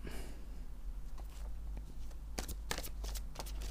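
Oracle cards are handled and shuffled for a reading, giving soft papery rustles and several sharp, crisp flicks, close and quiet, with no talking.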